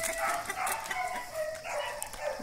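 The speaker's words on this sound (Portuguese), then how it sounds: "Esse cachorro tá que late." A dog on a rural farm barks several times at a moderate distance, short sharp calls scattered across a quiet outdoor background with faint birdsong.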